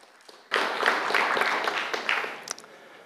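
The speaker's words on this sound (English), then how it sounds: "Applaud him, please." An audience breaks into applause at a programming talk on the Nim language. The clapping starts suddenly, fills the room evenly for a couple of seconds, then thins out toward the end.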